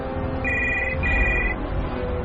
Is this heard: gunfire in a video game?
no